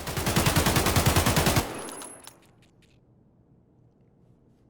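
An AKS-74 fitted with a 95-round drum magazine fires a rapid full-auto burst in Escape from Tarkov, loud and evenly paced, then cuts off abruptly, leaving faint mechanical clicks and near silence.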